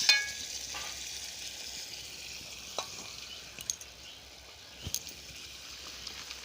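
Chicken gizzard and liver fry in a pan without added water, giving a faint, steady sizzling hiss with a few soft clicks and scrapes as the pieces are stirred.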